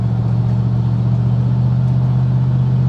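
Low V8 exhaust drone of a 2003 AC Shelby Cobra cruising on a bumpy road with open-air wind noise, steady and loud throughout, a deep hum with no speech.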